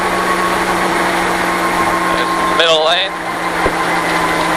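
A stock car at high RPM on an oval track, its engine a steady, loud, close drone heard from inside the car, with voices talking over it throughout.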